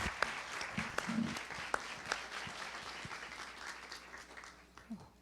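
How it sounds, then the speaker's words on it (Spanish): An audience claps in warm applause to welcome speakers at a journalism talk event, a dense steady patter with a few sharper nearby claps and faint voices mixed in, tapering slightly toward the end. "por favor, recibámoslos con un fuerte aplauso"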